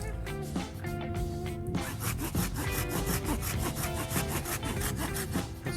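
A saw cuts the edge off a piece of silky gum wood being shaped into a bow drill spindle, with rapid, rhythmic rasping back-and-forth strokes that are loud and close throughout.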